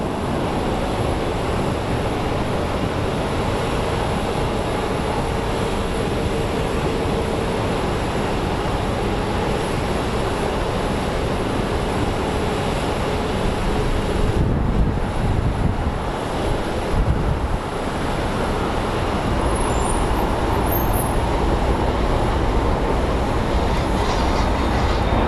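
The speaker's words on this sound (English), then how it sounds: "And here comes our flight to San Francisco." An airliner on the San Francisco flight at Sky Harbor Airport gives a loud, sustained broad roar that holds steady for about twenty-five seconds, with a brief dip and gusty wind buffeting partway through, and no voices.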